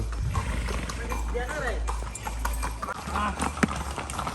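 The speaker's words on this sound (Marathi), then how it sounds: "पाठीमध्ये घोडे सगळे घोडे पण घोडेच घोडे सगळे" Horse hooves clip-clop along at a walking pace under chatter and voices nearby in Matheran, with traffic rumbling low in the background.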